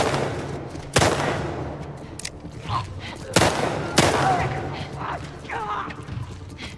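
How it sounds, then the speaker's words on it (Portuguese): Hunting revolver shots fired in The Last of Us Part II: three sharp, loud reports spaced a few seconds apart, each with a ringing tail, over game ambience and murmuring voices. "Então eu vou puxar o revólver de caça."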